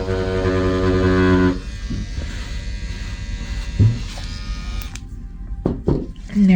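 Tattoo machine running with a needle cartridge, giving a loud steady electric buzz for about a second and a half, then a quieter hum with a few short knocks and brief sounds of someone nearby.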